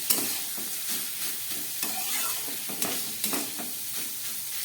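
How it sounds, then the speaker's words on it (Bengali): Grated cauliflower and carrot are stir-fried in a pan as filling for vegetable chops, soft sizzling under a rhythmic run of scraping stirs, fairly quiet and close, with no talking. "সব একসঙ্গে দিয়ে আমি ভালো করে এটাকে রান্না করে নেব।"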